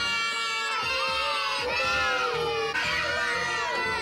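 A 3-year-old toddler screams loud and high-pitched in sustained wailing bursts, with other children's shouts mixed in close by, filling the whole few seconds.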